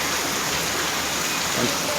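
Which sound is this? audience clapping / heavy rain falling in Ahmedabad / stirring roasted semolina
heavy rain falling in Ahmedabad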